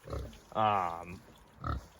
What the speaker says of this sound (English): a Mangalitsa Ossaba Duroc Yorkshire cross. So he is a fantastic pig.